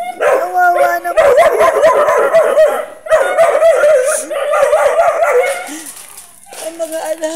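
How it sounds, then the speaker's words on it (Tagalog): Sick puppies at a dog impound, whimpering, yipping and barking in close, overlapping bursts, with high whines and short howls filling the space while a person speaks now and then. "Diyos ko yung mga tuta."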